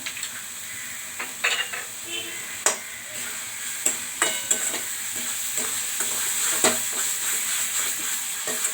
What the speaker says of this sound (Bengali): এবার মশলাটা ভালো করে কষতে হবে